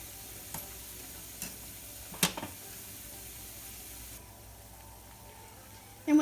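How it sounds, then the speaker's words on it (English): Seasoned chicken wings deep fry in oil, giving a quiet continuous sizzle with occasional sharp taps and clinks from utensils nearby. "Gently separate them as the wings fry."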